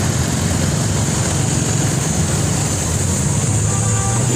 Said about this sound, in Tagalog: Traffic na. Hindi na makagalaw yung mga motor, oh.